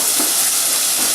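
Chicken sizzles in oil in a pot over a turned-down flame for a chickpea stew, a steady broadband hiss and crackle running unbroken and fairly loud close by, with no talking.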